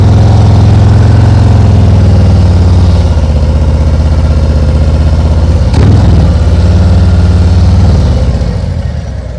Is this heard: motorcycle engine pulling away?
yes